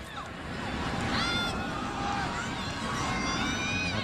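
Large stadium crowd roaring and cheering at a USA versus Canada women's soccer match, a steady loud wash of many voices with swelling cheers, with announcers talking over it.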